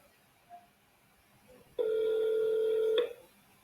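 A faint short beep, then a loud steady electronic phone tone holds for about a second before cutting off, like a call being transferred.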